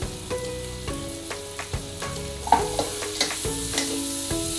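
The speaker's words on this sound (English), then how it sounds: "we'll first heat a wok with 2 tablespoons of homemade ghee. We'll add 1 large thinly sliced onions" Thinly sliced onion sizzles in homemade ghee in a wok, a steady frying hiss broken by repeated scraping stirs and soft knocks of a spatula, close and moderately loud with no voices.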